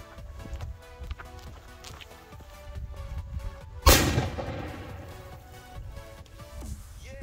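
A firecracker bursts with one sharp, loud crack in a hole cut in ice, followed by a rumbling wash of debris, with quieter rustling and scattered thumps around it.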